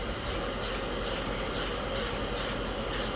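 Spray can of primer being sprayed onto a plastic scale model: a steady hiss in repeated short bursts, close and fairly quiet, alone.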